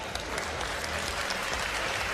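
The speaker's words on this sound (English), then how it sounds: "he deserves a round of applause" A crowd at an M-1 Challenge mixed martial arts event applauds, a dense steady clapping heard from within the arena.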